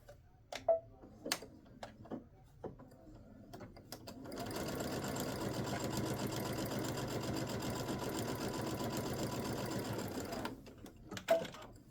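A sewing machine stitches a fabric pot holder with faux binding, running steadily at a moderate pace for about six seconds, preceded and followed by scattered clicks and taps of handling.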